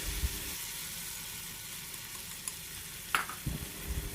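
Squid being stir-fried briefly in a hot pan, a soft steady sizzle with a few sharp clinks and scrapes of a utensil against the pan near the end, no voices.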